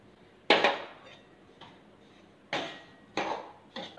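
Besan barfi mixture stirred in a pan with a utensil, giving four sharp scraping knocks against the metal spaced irregularly across a quiet kitchen background, each fading quickly.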